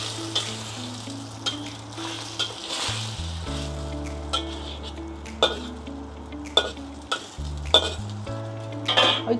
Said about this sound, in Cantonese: 咁我哋可以撈勻佢啦